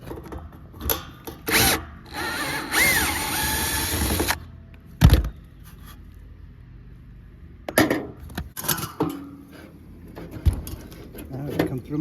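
An impact driver fitted with a half-inch bit rattles in several short bursts and one longer run while backing out bolts of a DirecTV satellite dish mount on a roof, with gaps between bursts and some background noise.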